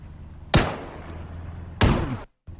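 Two loud, heavy blasts from an attack helicopter's mounted gun in the battle royale game PUBG, each followed by a short rumbling decay, spaced over a second apart.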